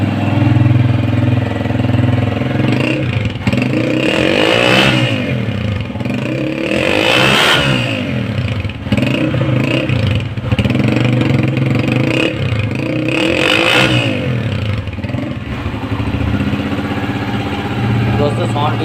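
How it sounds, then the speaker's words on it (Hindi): Honda CG 125 motorcycle idling without throttle, its silencer putting out a steady, loud low-pitched exhaust rumble that holds even throughout, with a voice talking over it. "अब इसी तरीके से सलेंसर को चेक करेंगे, सलेंसर का साउंड।"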